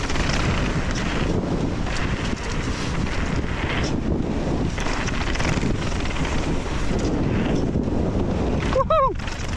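Strong gusts of wind buffet the microphone during a mountain bike ride through a bike park, a constant loud rumbling roar with a brief whoop-like voice near the end.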